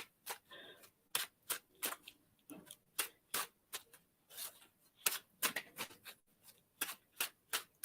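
Repeated sharp, crisp riffling bursts of tarot-style reading cards being shuffled, close and fairly quiet, in an irregular rhythm with short gaps between.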